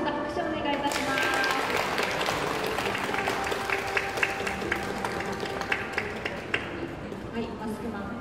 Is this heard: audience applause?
yes